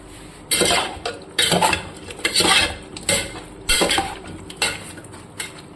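Chicken and fried potato pieces stirred in a pan, the spoon scraping and clattering against the metal in repeated bursts with short pauses, close and fairly loud, no voices.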